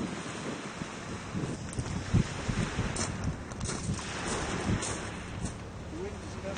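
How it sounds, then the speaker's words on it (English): Gusting sea wind buffets the microphone in a continuous rough rumble aboard a boat, with the wash of water faintly underneath. "The wind is gusting because I'm at actually 45 degrees."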